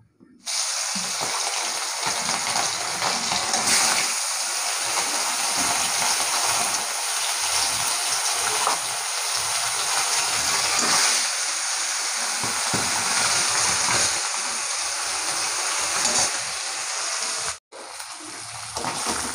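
Fish sizzling in hot oil in a wok, a steady broadband crackle and hiss that runs continuously and fairly loud, with a brief dip near the end.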